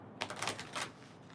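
Tarot cards being shuffled make a brief run of soft, quick papery flutters and riffles, close but faint, with no talking.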